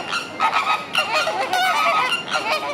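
Geese honking loudly and squabbling in a fight after being riled up by ducks, with harsh overlapping calls in rapid bursts, close by and continuous throughout.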